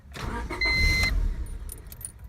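A 1999 Honda Civic DX hatchback being cranked, with a short starter whir and engine turning over close by for about a second, followed by a fading mechanical hum and faint ticks.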